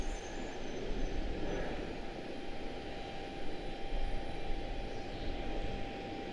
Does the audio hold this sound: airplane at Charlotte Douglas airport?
yes